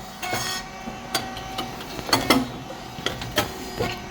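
A rice cake machine, model SYP35140(S3), runs with its hydraulic motor pump and oil pressure fan on, giving a steady mechanical hum under a series of sharp clacks and hisses at irregular intervals.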